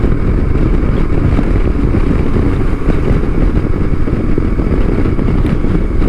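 A KTM 390 Adventure motorcycle rides along a road, its single-cylinder engine giving a loud, steady, close drone with wind rush throughout and no talking.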